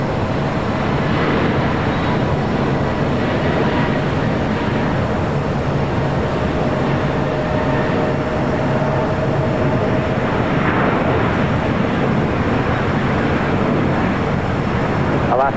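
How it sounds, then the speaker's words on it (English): A WestJet Boeing 737-700 passenger jet arriving at LAX from Calgary gives a steady, broad, loud roar that holds for the whole stretch, swelling slightly near the end. "That was WestJet Flight 1514 coming in from Calgary at the 737-700."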